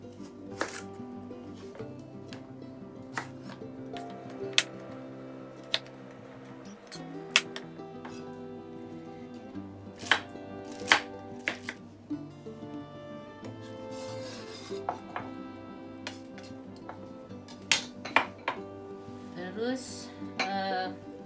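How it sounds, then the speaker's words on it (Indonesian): Celery being chopped with a knife on a cutting board in a home kitchen while making minestrone soup, a run of sharp, irregular chops that sound close and clear over a low background hum. "sekarang kita akan potong seledrinya"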